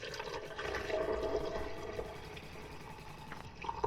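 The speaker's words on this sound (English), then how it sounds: "can I pour this without spilling it all over my car?" Protein drink poured from a bottle inside a car, a close, gurgling liquid splash running steadily for several seconds, with no talking.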